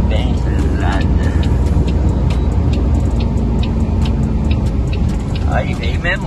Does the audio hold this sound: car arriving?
yes